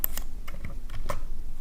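A web address is typed on a computer keyboard: a short burst of crisp, close key clicks at an uneven pace, with no voices.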